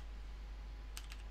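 Keystrokes on a computer keyboard entering a Linux command in a QEMU virtual machine session: a quick burst of two or three crisp clicks over a low, steady hum.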